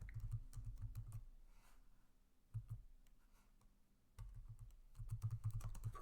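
Typing on a computer keyboard, close and clear, with quick clusters of light key clicks separated by short pauses and no voices over it.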